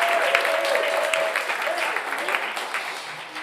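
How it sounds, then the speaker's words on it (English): Applause from a live radio show audience for folk performers Mean Mary and Frank, a lively burst of clapping with scattered cheers that tapers slightly as a voice talks over it. "how about one more round of applause for Mean Mary and Frank back there?"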